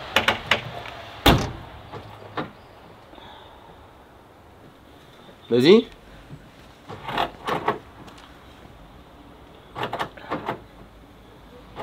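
Latches and lids on an old barn-find Ferrari being worked: several sharp clicks and thumps of trunk and door mechanisms, spaced irregularly and near, with a brief spoken word among them.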